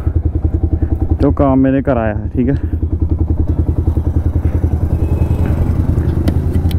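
A motorcycle idles in a narrow lane, its engine thumping in a fast, steady close-up rhythm for the whole stretch while someone talks over it briefly near the start.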